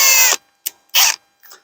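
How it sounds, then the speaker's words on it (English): A drill's keyless chuck is spun and tightened while swapping to a step bit: a loud whirring burst, then short ratcheting clicks and a second whirr, close and with no talking. "Switch that out for step bit to get to the 1-inch hole."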